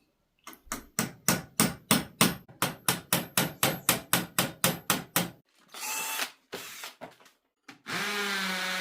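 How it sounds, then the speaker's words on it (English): Rebar is hammered down through a concrete block retaining wall into the bottom course, with about fifteen sharp, loud, evenly spaced metallic blows, followed by a few scraping and clattering sounds. "drive a rebar down into the bottom course that's already gone off set"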